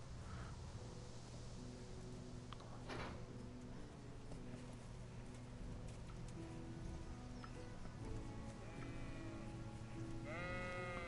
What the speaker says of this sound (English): look, there's sheep over there.